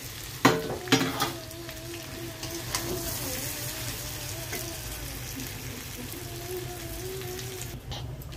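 Spice paste and boiled potatoes frying together in a pan for aloo dum, a continuous crackling sizzle with a couple of loud stirring clatters early on and a faint wavering tone humming in the background.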